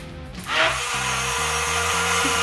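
A small portable motorized tool runs steadily with a tonal whine and low hum during hardwood floor refinishing, rising in level after a brief start and then holding constant.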